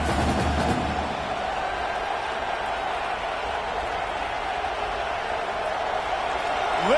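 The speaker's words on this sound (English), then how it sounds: "Listen to this crowd just shaking the girders of this place, trying to help their defense." A large football stadium crowd roars steadily and loudly throughout, cheering on the home defense in a dense wall of noise with no break.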